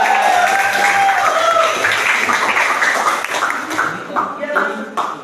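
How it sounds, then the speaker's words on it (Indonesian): An audience in a classroom or hall applauds a student group about to present, giving dense, steady clapping that fades toward the end, with people talking over it. "Silakan kita beri tepuk tangan dulu untuk kelompok yang sudah siap tampil dulu."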